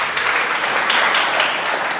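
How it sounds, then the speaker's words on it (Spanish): A church congregation bursts into applause, a continuous dense patter of many hands clapping at fairly loud level throughout. "Un aplauso para las que fueron al encuentro"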